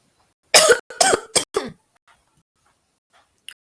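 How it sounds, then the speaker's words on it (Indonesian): Four loud, close coughs in quick succession, followed by quiet. "Mohon maaf, saya batuk."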